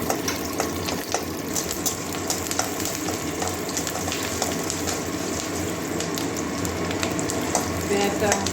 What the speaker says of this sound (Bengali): পেঁয়াজটা হালকা একটু ভেজে নিচ্ছি কাঁচা গন্ধ যাওয়া পর্যন্ত